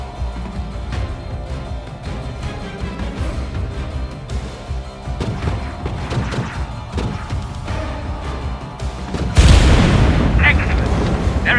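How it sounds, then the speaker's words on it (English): Heavy gunfire rakes a barge turret during a battle in The Falconeer, a sustained loud barrage of shots and booms that swells into a bigger blast near the end. "Now open fire, destroy the turret and the ship."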